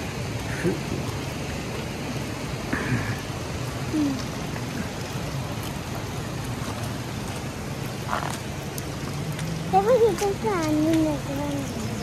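Steady monsoon rain hissing across the whole clip over Konkan rice paddies, with a low rumble underneath and a voice briefly speaking near the end.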